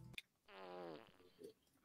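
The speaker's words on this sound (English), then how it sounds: "Fart sounds." A played fart sound effect rings out as one buzzy, drawn-out blurt, preceded by a brief click and followed by a short softer puff, during a late-night chat stream.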